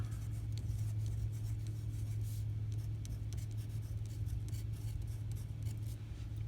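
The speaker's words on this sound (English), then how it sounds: "Let's write that one down." Handwritten notes being jotted down, steady close scratching and rubbing strokes of a writing tool on paper, with a low hum running underneath.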